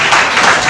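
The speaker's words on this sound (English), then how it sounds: "Ladies and gentlemen, please clap" Dense audience applause at a school quiz award ceremony, steady and loud throughout the short moment with no breaks.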